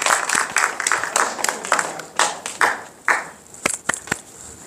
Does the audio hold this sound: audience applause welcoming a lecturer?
yes